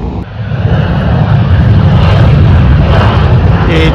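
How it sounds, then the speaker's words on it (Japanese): Airplane taking off from an island airport, a loud, steady roar of engines close by that holds throughout, with no one speaking. "ちょうど、飛行機が飛び立ちました。"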